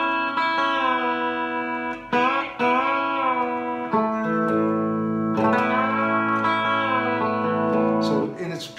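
A 1967 B-Bender Telecaster electric guitar played with open, unfretted strings through an amplified effects chain, sustained chiming chords bending in pitch, ringing with chorus and reverb over several swells, with no talking.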